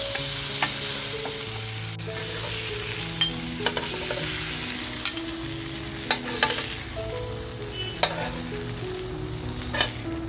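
Fish sizzling and frying in hot oil for fish pav bhaji, a continuous close crackle with occasional sharp pops and stirring scrapes, no voices.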